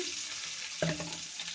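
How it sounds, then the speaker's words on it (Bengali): Chopped onion fries in soybean oil with a soft, continuous sizzle, and a brief louder clatter and burst of crackling partway through. "পেঁয়াজটা একটু ভেজে নেব।"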